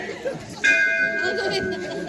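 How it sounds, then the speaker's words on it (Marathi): A temple bell rings once with a sustained, ringing tone that lingers and slowly fades, while people chatter and talk in the background. "हा देवळातली घंटी वाजली बघ"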